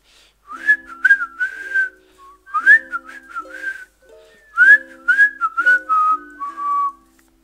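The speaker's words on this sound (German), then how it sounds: "Ein Pfeiflied, ich pfeife mal mit." A bright, clear melody is whistled in phrases, from a whistling song in the game Minecraft with someone whistling along; loud and close, with short pauses between phrases.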